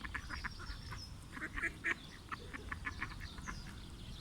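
Friendly ducks close by on a New Zealand farm give repeated quacks and honks in a busy chatter over a steady outdoor rumble.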